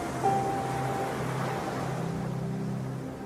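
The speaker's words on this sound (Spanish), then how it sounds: "mientras el sonido de las olas acompaña tu respiración" Ocean waves wash onto a seashore in a steady, continuous rush of surf that stays loud and broad throughout, with no distinct breaks between swells.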